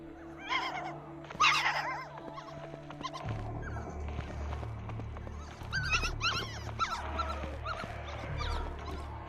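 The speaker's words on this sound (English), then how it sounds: "Aw, puppy! So cute! Don't go too far!" In the video game Tap Champs, a puppy gives a series of high, short yips and whimpers. They play over a low, steady game soundtrack, at moderate loudness, with a few clattering effects.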